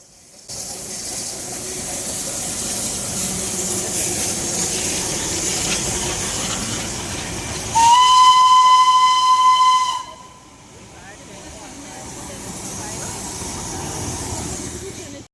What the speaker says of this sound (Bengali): শিলিগুড়ি থেকে দার্জিলিং আসা স্টিম ইঞ্জিনের টয় ট্রেন